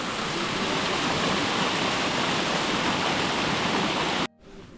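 Water gushes steadily from a row of 108 temple water taps on the Annapurna Circuit, a dense, unbroken rushing and splashing that stops abruptly near the end.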